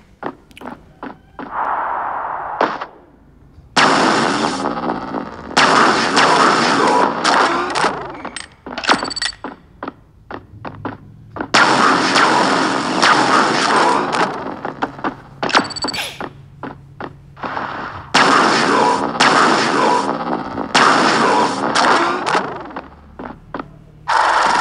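Electric gun firing in a mobile shooter game, with bursts of bright electronic shots and clicky mechanical effects repeating in clusters over a busy game soundtrack, fairly loud and close throughout.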